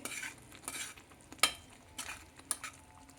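Palak paneer gravy being stirred in a pan, with a spoon scraping and clinking against the metal in a few sharp bursts over a soft bubbling simmer. No one speaks.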